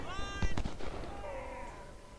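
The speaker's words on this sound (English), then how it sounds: "Enemy artillery is opening up." Artillery booms in the Civil War strategy game Ultimate General: Civil War, a couple of brief muffled thumps close together over a steady background ambience.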